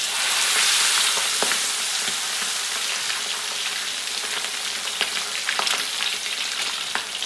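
Marinated food frying in hot oil, heard as a loud, dense, continuous sizzle with crackling spits and pops throughout, close up, with no voices.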